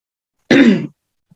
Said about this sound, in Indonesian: Maaf ya Bapak Ibu, saya lagi batuk masalahnya.